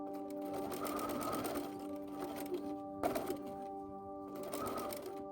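A home sewing machine stitches along a costume corset edge, close and steady, in three bursts of whirring separated by short pauses, with no one speaking.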